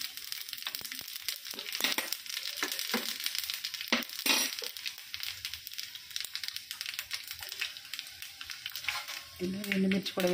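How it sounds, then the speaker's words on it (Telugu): Cumin, mustard seeds and urad dal fry in hot oil in a pan for a tempering, giving a soft steady sizzle with light crackles and an occasional metallic clink close by. "ఆయిల్ వేడెక్కిన తర్వాత జీలకర్ర, ఆవాలు, మినపగుళ్ళు వేసుకొని వేయించుకోవాలండి"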